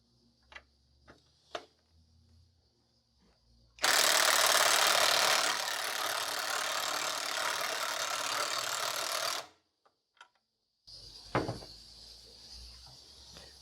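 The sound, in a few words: power driver on low torque driving screw with washer into wood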